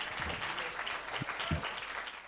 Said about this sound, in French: Donc là, c'est vous que j'applaudis.